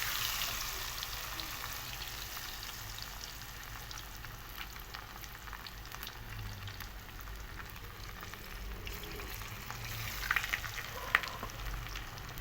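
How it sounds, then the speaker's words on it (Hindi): Pieces of marinated fish fry in hot oil for a Lahori fish fry, giving a soft, steady sizzle with faint scattered crackles and a few louder pops near the end. "बस इसके अंदर अब हम फ़िश डालेंगे जो मैरिनेट करके रखी हुई थी।"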